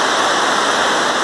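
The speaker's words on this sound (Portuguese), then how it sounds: "Água rolando e rolando com a pressão." Water rushes steadily under pressure, a loud, continuous broadband roar like a strong outflow or cascade, unbroken and close, with no voices.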